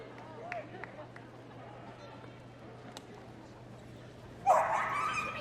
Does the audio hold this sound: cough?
no